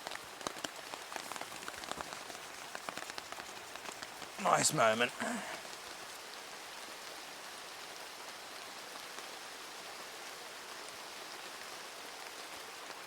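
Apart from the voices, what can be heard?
rain falling in rainforest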